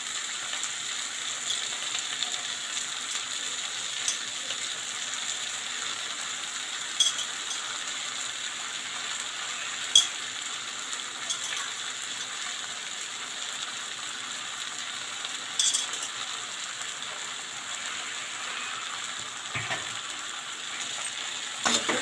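Poha fries and is stirred in a pan over low gas, a faint steady sizzle with soft scraping and occasional light clinks of a spoon against the pan; no voices.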